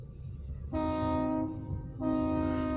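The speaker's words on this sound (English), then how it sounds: "But the truck's gonna have to wait because there's a train coming." A short grain hopper train on the OC&T line near Oil Creek Plastics in East Titusville sounds its horn in two sustained blasts over low rumbling rail noise.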